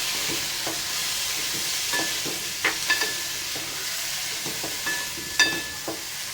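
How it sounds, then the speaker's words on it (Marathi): Carrots, peanuts and peas are stirred while frying for a Maharashtrian bhogichi bhaji khenagat. A soft, constant sizzle runs under scattered scrapes and sharp clinks of a spoon against the pan, close and fairly quiet. "गाजर, शेंगदाणे छान असं हलवून घेऊया."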